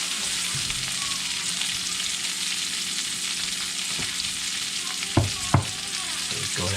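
Fresh garlic and vegetables fry in an enamel cast iron pan, giving a steady, loud broadband sizzle throughout, with a couple of sharp utensil knocks near the end.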